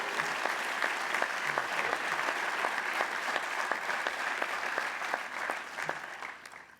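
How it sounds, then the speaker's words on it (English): A commencement audience at the Capitol Technology University 2025 ceremony applauds steadily for supportive family members, a dense, even wash of many hands clapping that holds for several seconds and thins slightly toward the end. "So a special round of applause, please, to all the very supportive family members."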